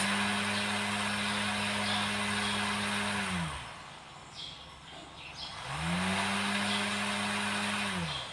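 A mini brushless grinder motor spinning a propeller, a loud steady high whine that spins down to a stop, pauses briefly, then spins back up to full speed.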